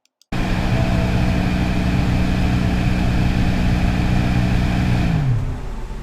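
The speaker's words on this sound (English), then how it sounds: "today we're going to address the growling blower motor on the 750i" Growling blower motor in a BMW 750i, running as a steady droning hum with a rough low-pitched rumble that stays constant, then winds down and fades near the end, fairly loud and alone.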